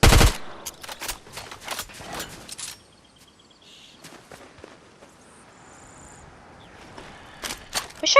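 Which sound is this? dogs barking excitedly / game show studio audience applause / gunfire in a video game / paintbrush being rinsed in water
gunfire in a video game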